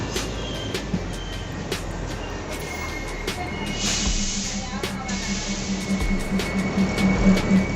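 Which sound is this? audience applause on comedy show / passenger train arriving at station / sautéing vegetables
passenger train arriving at station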